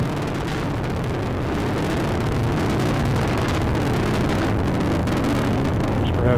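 Atlas V rocket climbing on its RD-180 booster engine with solid rocket boosters, a loud, unbroken broadband roar and rumble that holds steady throughout, no voices over it.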